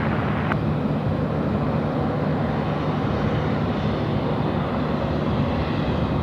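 A Jetstar aircraft, flight 825, at Sydney Airport gives off a loud, steady engine roar with a broad rumbling low end, continuous and unbroken from start to finish.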